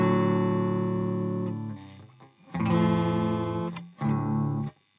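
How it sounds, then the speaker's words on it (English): An Antiquity Legends electric guitar plays through the neck pickup on a crunch channel, with slightly off-tune strings. A long sustained chord is followed by two shorter strummed chords, each ringing out with overdriven harmonics. "So this is the neck pickup on the Crunch channel."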